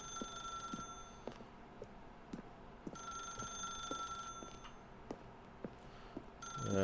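An old-style corded desk telephone in The Stanley Parable video game rings with repeated electronic bell bursts in a steady rhythm, loud and clear over a low ambient hum, with no talking.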